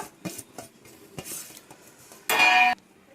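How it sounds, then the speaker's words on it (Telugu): Sliced onions being mixed with salt in a bowl for Telangana sarva appa, giving scattered light clinks and scrapes with one brief, brighter ringing clink near the end, fairly quiet and without talk. "సాల్ట్ వేసుకొని కొంచెం బాగా ఇలా కలుపుకుందాం"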